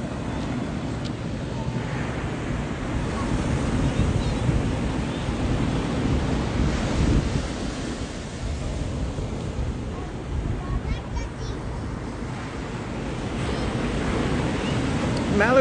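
Ocean surf rolls onto a beach with steady wind buffeting the microphone, a continuous broadband wash of breaking waves that stays fairly constant throughout, with some faint voices in the background.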